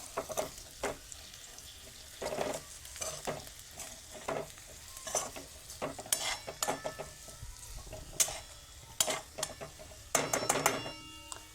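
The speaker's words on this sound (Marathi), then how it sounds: "आणि एकदा अलगद आहे ना परतवून द्यायचं आहे सगळं." Bitter gourd pieces sizzling in a pan as a spatula scrapes and turns them, repeated stirring strokes with clinks against the metal over a steady frying hiss, close and moderately loud.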